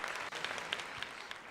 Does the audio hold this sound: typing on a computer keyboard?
no